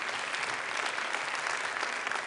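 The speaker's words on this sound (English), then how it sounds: "I want to give a very big applause to all of them and to all of you for this very interesting journey" Applause for world leaders at the One Health Summit in Lyon, a dense, steady wash of clapping from a large indoor audience, even and sustained throughout with no voices over it.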